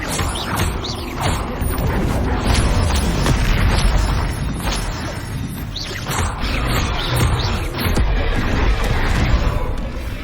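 Repeated Bombarda and Confringo spell blasts in Hogwarts Legacy, a dense run of booming explosions and crashing impacts that stay loud and continuous for the whole stretch.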